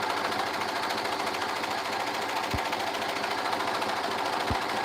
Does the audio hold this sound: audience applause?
no